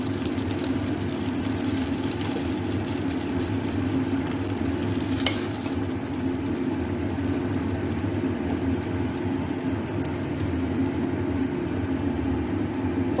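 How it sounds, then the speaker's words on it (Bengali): Pieces of aair fish fry in hot oil in a wok, making a loud, continuous sizzle for over thirteen seconds, with one brief stirring scrape partway through and no voices. "এদিকে মাছগুলো ভাজা হয়ে গেছে"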